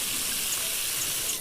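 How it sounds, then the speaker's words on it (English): Water running steadily from a tap in a video game, a continuous broadband hiss that holds at an even level throughout with no voices over it. "That's a lot of water."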